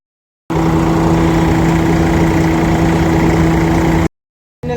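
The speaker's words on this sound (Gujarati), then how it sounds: "હવે પાછું આપણું જે મશીન છે તે ચાલુ કરી દઈએ" A thresher machine engine runs steadily during farm threshing work, a loud continuous mechanical drone with a strong low hum, starting abruptly, holding for about three and a half seconds, then cutting off briefly before resuming.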